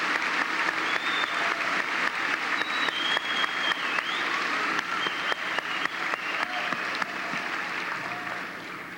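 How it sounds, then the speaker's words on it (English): Sustained applause from a large audience at a graduation ceremony, steady dense clapping throughout with a few faint whistles, gradually easing near the end. "Please give them a round of applause."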